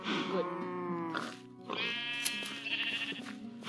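A sheep in the video game Minecraft bleats several times in quick succession: loud, nasal, wavering cries that sit close up and stand alone without talk.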